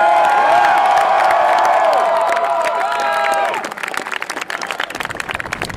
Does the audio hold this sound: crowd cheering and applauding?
yes